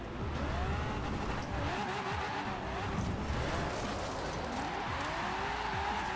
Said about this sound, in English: I can actually spin all four wheels